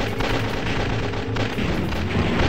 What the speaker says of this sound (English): there's missiles everywhere